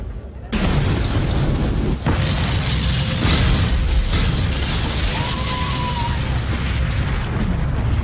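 A sudden loud blast from a gas explosion at a building in Puerto Rico bursts out and turns into a sustained, heavy rumbling roar, with voices faintly audible beneath the noise.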